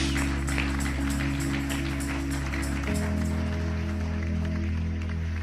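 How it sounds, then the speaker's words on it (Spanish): Church congregation clapping for God during a Spanish-language worship service, steady broadband applause sustained throughout, with sustained low tones from music or organ underneath. "Un aplauso fuerte a Dios."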